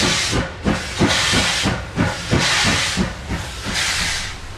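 A steam locomotive, class 52 number 52-81-34, chuffs loudly in a steady rhythmic beat, its exhaust hissing strongly as it works hard pulling a train close by through Feuerfeld in the Westerwald.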